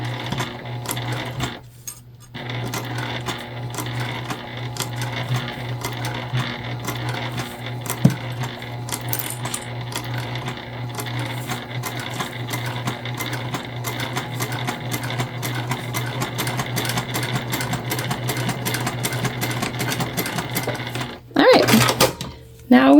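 A sewing machine runs steadily for a long stretch, stitching through thick layers of material, its motor droning and needle chattering as it labors, then stops briefly before a final clatter.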